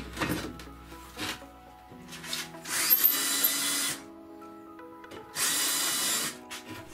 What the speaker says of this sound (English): Now we drill some mounting holes for the supports